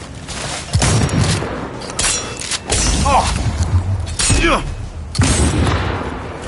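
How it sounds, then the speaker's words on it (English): Gunfire in Cyberpunk: heavy bursts of shots and thudding impacts come in several separate volleys, loud and near, with shouted voices in between. "Taking fire!"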